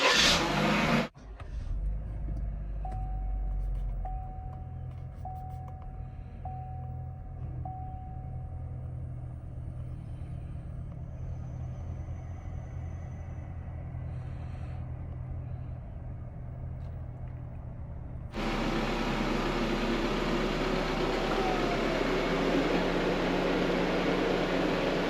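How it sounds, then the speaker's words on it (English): A 2019 GMC Terrain's 1.5L turbo engine idles steadily after an oil change, a low continuous rumble with faint fan whir, then a louder broadband wash of engine noise in the final seconds. "We'll fire this thing up, let it run for a minute, fill the oil filter up"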